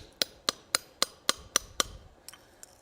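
A hammer drives a curved chisel into hot metal while forging a Santa ornament, giving seven sharp, evenly spaced ringing strikes followed by two fainter taps, close and alone.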